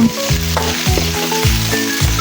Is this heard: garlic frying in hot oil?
yes